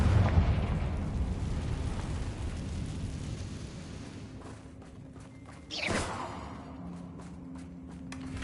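The Confringo fire-blast spell in Hogwarts Legacy, a rumbling blast that fades into a low hiss before a single sharp explosive burst near the end, followed by a crackling tail.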